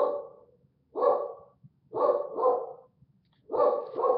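A dog barks in three separate bursts, each a pair of loud, close barks with short pauses between, with no voices over them.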